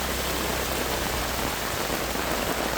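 Heavy monsoon rain pours steadily in coastal Karnataka, a dense, even roar of water with no break or variation from start to finish and no voices.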